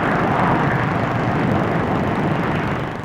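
RAF Hawker Hunter jets flying a formation display at an air show, a loud, steady broadband jet roar that holds for about three seconds before easing slightly.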